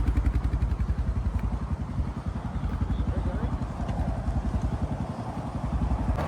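A 1993 Honda Gold Wing motorcycle engine idling nearby with a steady, even low throb and slight clatter, loud and continuous, while people talk faintly around it.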